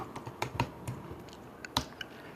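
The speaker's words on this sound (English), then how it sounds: "I'll type it in for you." Several crisp, irregular clicks of typing on a computer keyboard, close and moderately loud, with uneven gaps between keystrokes and no talking.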